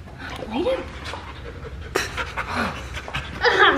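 A golden retriever puppy pants rapidly and close by, with quick breathy huffs, soft whimpers and a few small yips under a person's gentle talking.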